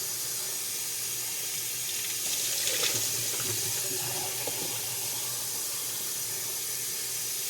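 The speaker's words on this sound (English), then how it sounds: "That's me doing dishes." A kitchen tap runs into the sink while dishes are washed, a soft steady hiss of flowing water with a brief swell of splashing and clinks partway through, heard alone without voices.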